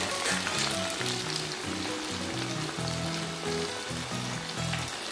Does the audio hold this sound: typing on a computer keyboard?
no